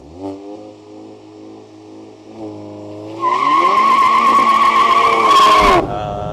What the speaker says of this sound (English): can you just start it up and rev it for us, please?